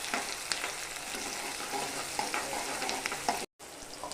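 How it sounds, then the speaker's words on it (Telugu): Onions frying in oil with cumin, bay leaf and curry leaves for an egg curry, a steady close sizzle broken by scraping stir strokes, with a brief dropout near the end. "ఆనియన్ వేసి మిక్స్ చేసి"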